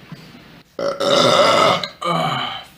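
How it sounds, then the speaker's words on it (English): A loud, drawn-out burp close to the mic, made of a short grunt and then a long rumbling belch with a brief second tail at the end. "Burping with drunk koala."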